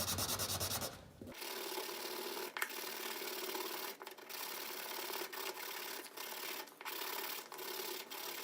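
A handmade wooden ring is sanded back and forth, producing a continuous, close, raspy scraping with a quick stroke rhythm and a few brief pauses. A short clunk comes at the start.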